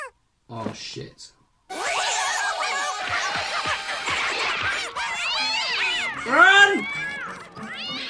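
A cartoon cat yowls and meows loudly in long, wavering caterwauls, mixed with cartoon music and other voices; a person shouts briefly.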